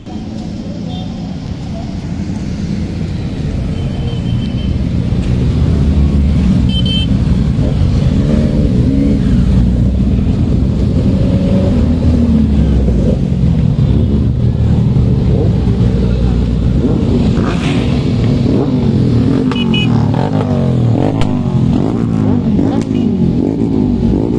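Loud engine roar of several superbikes, including a Ninja H2, Hayabusa, S1000RR and GSX-R, revving and idling nearby, sustained and rumbling throughout, with voices faintly mixed in.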